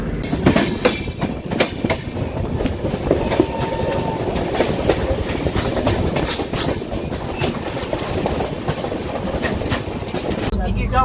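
The Jamuna train pulls into a station, giving a loud, continuous rumble with rhythmic clattering of wheels over rail joints, while people talk nearby.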